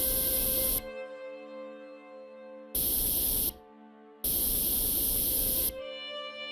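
Spray painting a tank sprocket wheel trunnion in a mechanic simulator game: three loud, steady hissing bursts of spray, each lasting about a second or more, separated by quieter pauses with a faint background hum.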